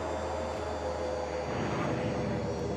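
Convair B-36 Peacemaker in Flight Simulator X, engine roar swelling as thrust reversers engage on landing, a steady broad rumble rising slightly toward the end.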